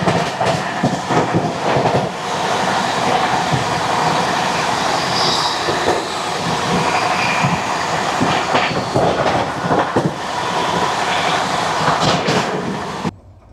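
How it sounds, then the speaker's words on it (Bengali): Steady rumble and clatter of passing trains as the Magadh Express, train 20801 from Islampur to New Delhi, is overtaken by the Sealdah–New Delhi Rajdhani Express, continuous and loud with wheel clicks and brief squeals throughout. "ট্রেন নাম্বার 20801 ইসলামপুর থেকে নতুন দিল্লির পথে মগধ এক্সপ্রেস ওভারটেক করবে এবার আমাদের রাজধানী এক্সপ্রেস।"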